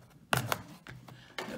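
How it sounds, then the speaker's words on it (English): Dull scissors snip through the plastic wrapper of a 2023 Topps Series 1 trading card blaster box, giving a few short, crisp crinkling cuts close by with brief pauses between them. "Yeah, must have like the dullest scissors ever."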